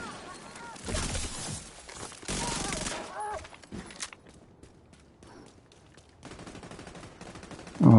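Rapid, loud minigun fire rattles in dense bursts during a fast-paced video game firefight, with a couple of sustained volleys and fainter scattered shots and movement between them.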